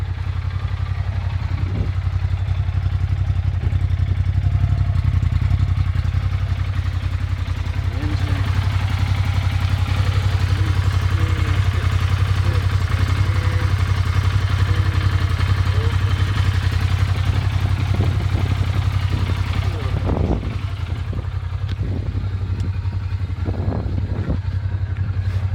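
An Arctic Cat Wildcat 1000 side-by-side runs steadily close by with a deep, constant engine drone, a faint squeal appearing when the drive engages, while a person talks over it.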